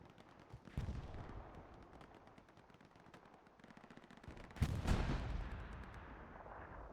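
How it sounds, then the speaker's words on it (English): Artillery and small-arms fire from the World War II shooter Hell Let Loose on Utah Beach: repeated gunshots and bursts with a loud boom near five seconds, dense and continuous, no talk. "Lots of rockets out, artillery fire,"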